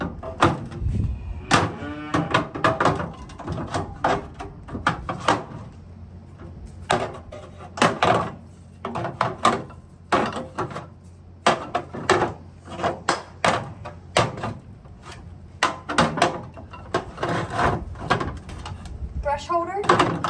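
Drawers are opened and shut repeatedly while sprays are put away, producing a string of sharp thuds, slides and clacks nearby, mixed with someone talking throughout.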